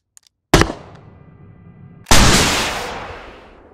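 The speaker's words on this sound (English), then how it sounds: "it should take about 2 ATGMs to blow this thing up" Two ATGM missiles slam into an Abrams tank in the game Squad, two loud separate blasts about a second and a half apart, the second followed by a long fading rumble.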